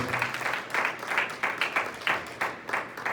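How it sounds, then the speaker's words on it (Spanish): A church congregation claps in a short, moderately quiet stretch of rhythmic, somewhat unified applause with distinct pulses. "Denle un aplauso al Señor, hermanos."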